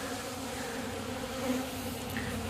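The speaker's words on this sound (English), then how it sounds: "There's a couple of stupid bees that are trying to get out the hole" Honeybees trapped at a bee escape set on a hive's inner cover after robbing buzz in a steady, close drone that swells slightly midway, with no voices.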